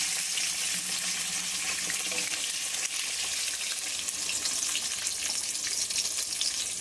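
Eggplant slices fry in hot oil in a pan, a steady, dense, close sizzle that hisses without pause from start to finish, with no talking.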